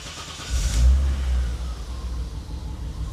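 BMW 325i engine turning over and catching, then a low throaty rev that swells and settles into a steady rumbling idle, close and moderately loud with no talking.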